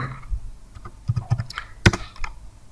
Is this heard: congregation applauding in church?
no